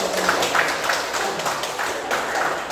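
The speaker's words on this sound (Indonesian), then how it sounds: "Tepuk tangan dulu." Students clap together in a classroom during a guidance and counseling practice session, a dense, steady burst of applause at moderate loudness with scattered sharper claps throughout.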